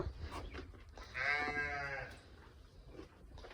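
One long, drawn-out moo from a young cow that has not yet calved, heard fairly close, with faint background noise before and after it.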